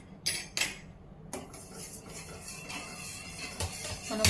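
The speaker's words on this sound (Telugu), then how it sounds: "మనం కొంచెంసేపు ఇట్లా తిప్పుకుంటూ ఉండాలి." A spoon stirs a sweet carrot, beetroot and coconut jelly mixture in a pan, with a few sharp metallic scrapes and clinks against the pan over a quiet background.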